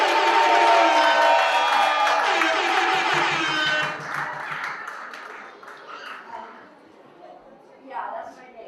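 An audience claps and cheers at an International Women's Day celebration, a loud, dense burst of applause and whoops that gradually thins out, with scattered chatter in the room.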